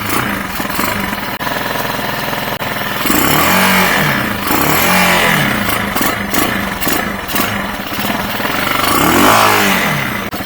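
A Chinese CG motorcycle engine fitted with a Nibbi PWK carburetor runs steadily up close, loud and rough, rising in short revs now and then over a constant mechanical clatter.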